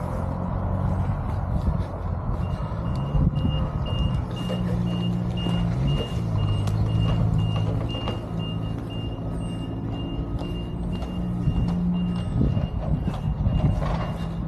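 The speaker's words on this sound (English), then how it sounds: "Unloading the lorry." A lorry reversing while unloading on an industrial estate in Newtown, Powys, Wales sounds its evenly pulsed beeps throughout, over a steady diesel engine drone and low rumble, moderately near.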